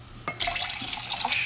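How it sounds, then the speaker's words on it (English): A cotton candy margarita drink spills over the glass, a short splashing, fizzing rush of liquid lasting about a second, close and fairly loud. "I didn't know it was gonna spill over."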